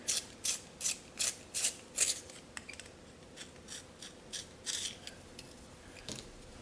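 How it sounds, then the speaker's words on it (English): A warm grey 3 coloured pencil being sharpened, giving a run of about twelve rhythmic, close scraping turns in a manual sharpener, strong at first and then lighter, with no talking. "I'm just going to sharpen this warm grey 3 pencil."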